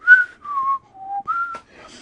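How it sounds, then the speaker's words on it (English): A person in an elevator whistles a short, wandering tune of several sustained notes, stepping down and then back up, close and clear. "What I'd do is at the end, I'd start whistling like"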